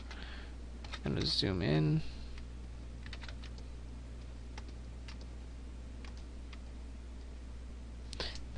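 A computer keyboard clicks with scattered, light taps and a few quicker runs of keystrokes during digital drawing work, heard close and quiet under a brief spoken remark.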